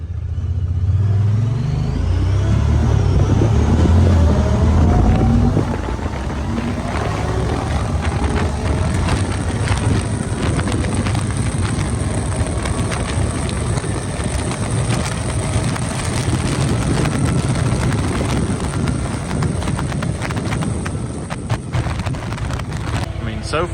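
A loud engine drone with rattling and wind buffeting as a 2023 Pioneer 1000-6 side-by-side utility vehicle drives along, revving higher at first then settling into a steady run.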